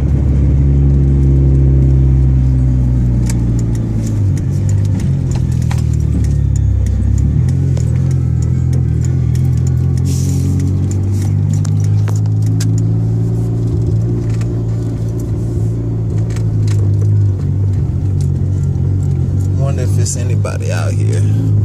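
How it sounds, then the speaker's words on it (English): A loud car cruising on a road at night, its engine rumbling steadily throughout with a few surges of revving, up close and dominating. "My car is so damn loud."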